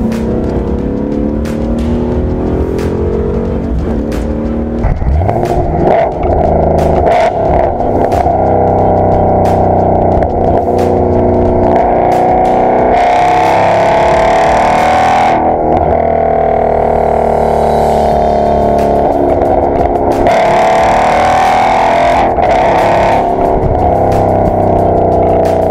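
A 2016 Ford Mustang GT engine revs hard and pulls away while driving, with a loud, continuous roar that rises and falls through gear changes. Sharp transient bursts cut through the engine note, and no voices are heard.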